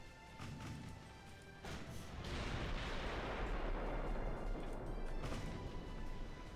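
Heavy 14-inch naval cannon blasts in the game Ultimate Admiral Dreadnoughts boom in quick succession with rolling, crashing rumble afterward, loud explosive impacts.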